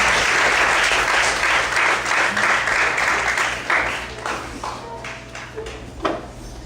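A church congregation applauds at a Sunday service in Brasilândia, a dense, loud clapping that fills the room for about four seconds, then thins out into scattered claps and fades.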